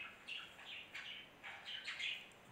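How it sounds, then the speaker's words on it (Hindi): Small birds chirp and tweet in a temple courtyard during a Hindu puja, a series of bright, fairly faint calls arriving in short bursts with no talking. "आंगन में है, चिड़िया की आवाज़ तो आएगी ज़रूर, पक्षी रहते हैं"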